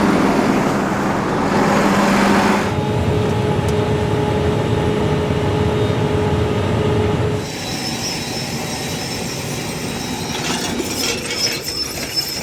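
Cab interior of a pickup truck without air conditioning rolling along, a loud, steady rumble of tires and road noise that drops to a quieter hum partway through, with faint squeaks and rattles.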